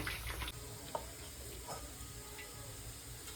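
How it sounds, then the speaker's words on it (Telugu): Food fries in oil until golden, a faint, even sizzle at low level with a couple of soft clinks and stirring sounds. "గోల్డెన్ కలర్లో అయితే ఫ్రై చేసుకుందాం"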